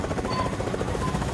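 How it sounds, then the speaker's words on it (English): Helicopter in the video game Fortnite, a steady low rotor thrum at moderate distance, brief and continuous. "Oh, there's another helicopter."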